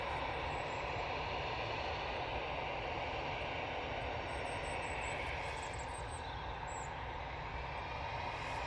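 An Etihad airliner on final approach drones steadily at a distance, a low continuous engine rumble with faint high birdsong chirps above it and no voices.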